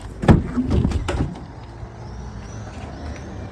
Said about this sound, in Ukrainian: Зараз ще відкриємо тут дверчата.